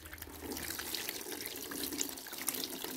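Water poured out in a cow shed on a natural-farming goshala, a steady splashing, trickling flow heard close and continuous with no talk over it.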